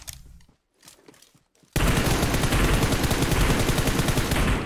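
Gunfire in the mobile game PUBG Mobile on the Sanhok map: a brief quiet stretch with faint scattered sounds, then a loud, dense, sustained burst of rapid automatic shots that continues without pause to the end.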